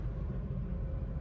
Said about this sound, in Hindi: गाड़ी हमारी चल चुकी है जी